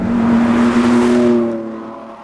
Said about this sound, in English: we're driving a Ford GT, the limited production supercar